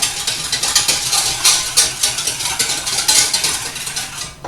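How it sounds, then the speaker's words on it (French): A whisk stirs egg cream in a pan being heated, making a steady, fast scraping and swishing rhythm close up, continuous and fairly loud with no voices. "je vais prendre juste un fouet. Voilà, pour remuer"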